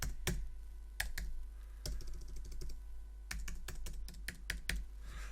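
Someone types a password on a computer keyboard with bursts of quick key taps, a few isolated strokes then a rapid run of clicks, close and moderately quiet with no talking.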